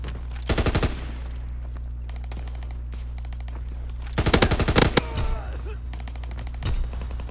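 Automatic gunfire in a WW2 shooter game rattles out in short rapid bursts, loud and close, separated by quieter stretches over a low steady hum.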